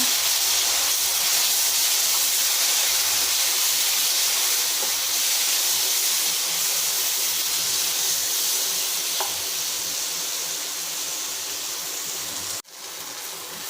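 A steady, loud sizzle and hiss of water hitting hot masala in a pan for chicken gravy runs throughout, easing slightly toward the end with a brief clatter.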